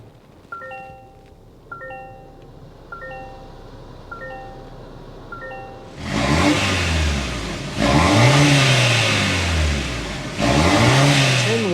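A turbocharged 2024 Toyota Grand Highlander engine starts after a few seconds of chiming tones, then settles into a loud, steady exhaust note with two further swells of revving, close by with no talk.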